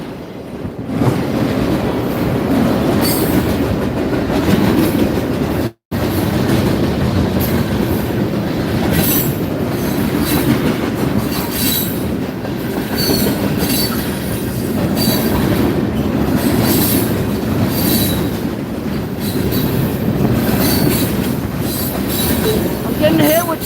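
A train rolls through downtown Gilbert, its wheels and cars producing a loud, continuous rumble with clacking and occasional squeals, up close for the whole stretch apart from one very brief dropout.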